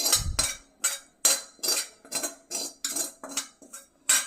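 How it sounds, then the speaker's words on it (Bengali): A metal utensil scrapes stuck, crumbly crust from a cooking pan in which semolina pulao was made, giving about ten short, sharp clinking strokes at a steady rhythm, close and fairly loud, with no talk. "কড়া যেগুলো লেগে আছে সেগুলো চেঁচে দেওয়া হচ্ছে"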